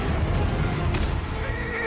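A horse neighs loudly in a film scene from Rise of the Planet of the Apes, a shrill whinny with hoof clatter beneath, pitting a gorilla against a horse.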